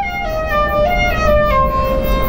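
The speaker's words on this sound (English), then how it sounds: "they settled it by switching out to what became the 4072 filter. And that sounds like this." ARP 2600 synthesizer lead tone run through the 4072 filter, a bright, buzzy sustained lead gliding between a few pitches, loud and continuous over a steady low noisy bed.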